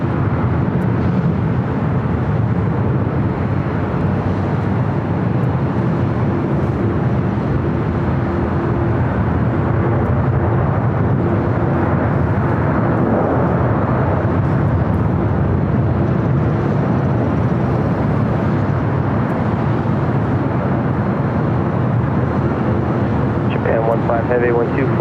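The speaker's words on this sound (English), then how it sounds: "this is 777-300ER, Japan Airlines heading back to Tokyo" Japan Airlines Boeing 777-300ER jet at Los Angeles International Airport, a loud continuous low engine roar that holds steady throughout, with a voice talking over it.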